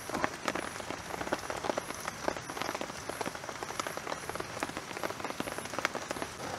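Heavy rain patters and drums on a taut canopy tent overhead while camping, a dense, steady crackle of drops close by with occasional louder hits.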